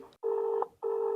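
A telephone call tone heard over a phone line: two steady electronic beeps, each about half a second long, separated by short silences, clear and close.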